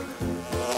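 A buzzing fly passing close by, its whining drone rising and falling twice in under a second, fairly near and clear with nothing else heard.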